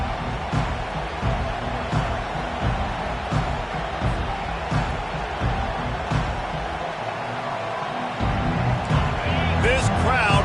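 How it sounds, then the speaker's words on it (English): A large college football stadium crowd roars loudly and continuously around an opening kickoff, a dense wall of cheering with a commentator talking over it. "This crowd bringing an ear-splitting welcome to their visitors."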